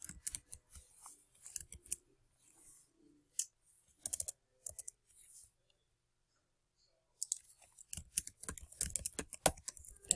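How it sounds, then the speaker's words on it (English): Typing on a computer keyboard while entering a name in a word processor, quick irregular bursts of close, crisp key clicks separated by short pauses, with a denser run of keystrokes toward the end. "now I'm going to type my name"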